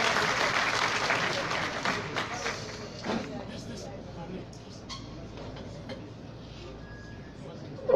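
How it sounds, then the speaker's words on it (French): Crowd applause at a political party congress welcoming the US embassy representative, strongest at the start and thinning out over several seconds, with voices mixed in. "Veuillez l'acclamer très fort."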